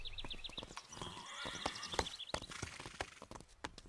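Pepper, a cartoon horse, gives a loud whinny with sharp, bright neighing cries, mixed with clip-clop hoof taps and other stable noises through the short stretch. No one talks.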